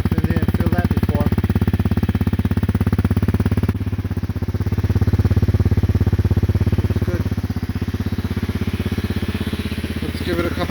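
A Honda CRF250L with an FMF Q4 exhaust idles close by in a steady, loud low-pitched rhythmic thrum that holds even throughout, with a brief spoken remark over it.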